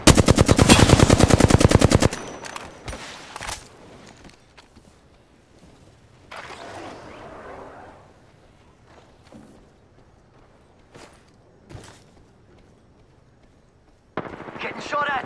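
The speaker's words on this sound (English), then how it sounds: "Getting shot at." Battle royale video game gunfire opens with a loud, rapid automatic burst. Scattered single shots and a second sustained burst follow near the end, with quieter footsteps and game noise in between.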